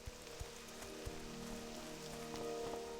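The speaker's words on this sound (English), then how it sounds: "You'd think the canopy up there would hold back a lot of this rain, but I guess not." Steady rain pours in World of Warcraft under a forest canopy, a dense, even hiss of falling water with scattered heavier drips and taps, continuous and moderately quiet with no talk.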